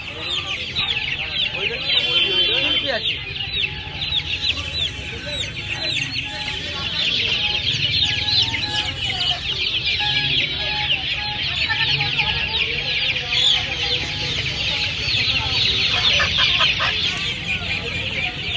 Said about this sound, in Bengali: এই একটা মুরগি দেখতে পাচ্ছেন। এটা কি মুরগি আছে? সিল্কি মুরগি আছে।